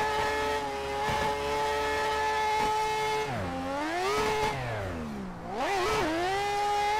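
A Mazda RX8 rotary engine revs hard in Assetto Corsa, with a loud, steady high-pitched drone that climbs through third gear and then dips and rises again as the car shifts and lifts.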